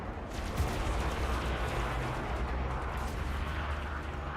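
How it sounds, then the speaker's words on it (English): Ships trade fire in the space game Elite Dangerous, heard as a dense, rumbling barrage of distant gunfire that rolls on continuously at moderate level. "Who are they shooting at, I wonder?"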